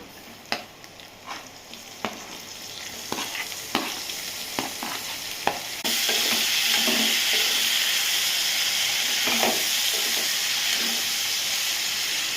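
Tomato pieces in a hot cooking pan, starting with sharp spatula taps and light sizzling, then a sudden loud, steady sizzle and hiss once the tomatoes hit the oil, continuing to the end.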